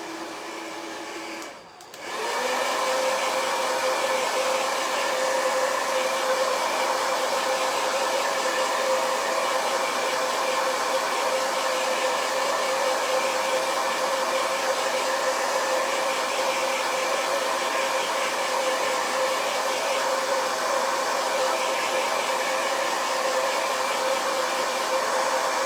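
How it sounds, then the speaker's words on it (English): A hair dryer blows steadily to dry chalk paste on a stencil. A short click comes near the start, then a loud, even whirring hum holds for the remaining twenty-odd seconds with no talking. "I'm gonna go ahead and dry it"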